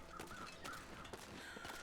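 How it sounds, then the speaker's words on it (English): Weather crows caw in a video game, several short harsh calls in quick succession against a busy ambient background, with no talking. "Now I'll be darned if those aren't weather crows"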